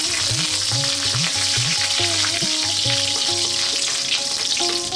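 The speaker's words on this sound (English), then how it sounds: "We're now going to drop in our curry leaves, fresh curry leaves." Fresh curry leaves hitting hot oil over high heat, a dense, loud sizzle with crackles and some stirring, continuous throughout, with a faint musical tune underneath.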